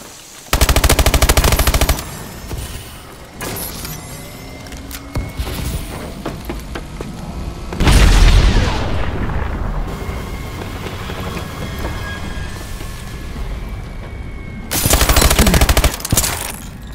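A Vulcan killstreak fires from above on the bio lab map in Call of Duty: Advanced Warfare, with long roaring bursts of extremely rapid gunfire, loud and sustained, separated by quieter stretches of ambient battle noise.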